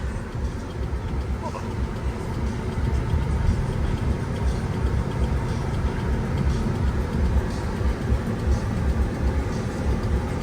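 Road noise inside a car in heavy holiday-weekend traffic: a steady low rumble and rolling drone that stays close and even throughout, with no talk.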